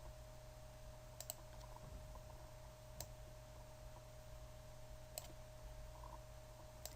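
Sparse, faint computer mouse clicks while filling shapes with color in a graphics program, a few isolated taps spaced a second or two apart over a quiet room hum.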